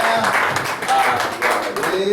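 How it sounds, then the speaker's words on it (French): A church congregation claps and cheers in acclamation of the Lord, a moderate wash of hand claps and voices rising and falling together. "Eden, acclamez le Seigneur."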